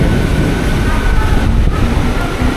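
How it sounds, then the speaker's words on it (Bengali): The Digha–Howrah local train pulls out of Uluberia station in heavy rain, giving a dense, continuous rumble and rattle of moving coaches, heard loud and close from inside. "আমাদের ট্রেন ছেড়ে দিল উলুবেড়িয়া স্টেশন।"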